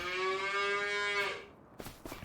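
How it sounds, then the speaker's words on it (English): Big hairy adult cattle in the video game Farming Simulator 25 let out a single loud, drawn-out moo that holds for over a second and then fades, followed by a few soft clicks. "Let's see what these adults look like. Some big old hairy cows."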